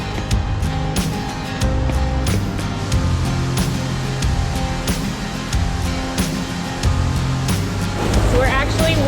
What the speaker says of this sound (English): So we're actually walking under the waterfall.